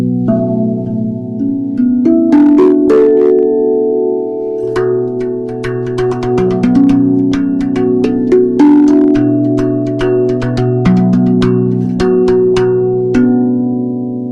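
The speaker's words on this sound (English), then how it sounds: "beginning with this really cool handpan. It's called a RAV Vast. It's made in Russia, and it sounds like this." Russian-made RAV Vast handpan played by hand: warm, bell-like steel tones ringing over a steady low drone, with a continuous flow of struck notes and soft taps, close and fairly loud, no talking.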